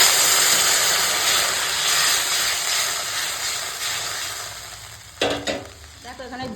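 Vegetables in masala frying loudly in a pan, a broad steady sizzle and hiss that eases off, then sharp stirring scrapes and clatter near the end as water is added; close, with no speech.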